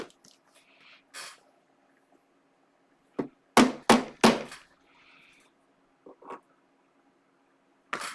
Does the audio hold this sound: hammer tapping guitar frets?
yes